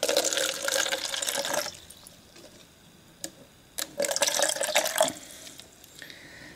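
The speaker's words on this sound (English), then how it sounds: "then add some water" Water poured into a container holding pepper cuttings set for propagation: a loud close splashing pour, a pause broken by a few drips and clinks, then a second pour that fades out.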